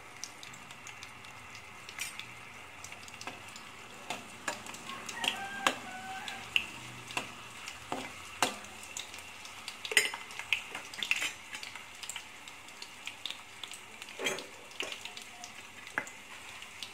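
Dried red chillies frying in a pan for a bitter gourd stew, with soft crackling and occasional scrapes and clinks of a utensil against the pan at close range.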